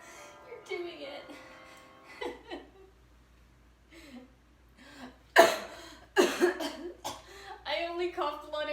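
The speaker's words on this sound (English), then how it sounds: "I only cough blood at weddings." A person coughs in a short, sharp burst partway through, set amid a wedding celebration with talking and some laughter around it.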